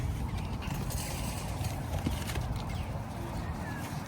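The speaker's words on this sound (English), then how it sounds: "Donkeys make everything so difficult." Donkey hooves clip-clop steadily on a farm during summer hay work, a close, continuous patter of footfalls with brief speech-like sounds in the background.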